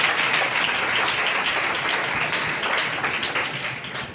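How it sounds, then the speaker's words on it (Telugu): Church congregation clapping hands together, a dense, continuous patter of many overlapping claps at steady loudness, fading slightly toward the end. "చప్పట్లు కొట్టుకుంటూ"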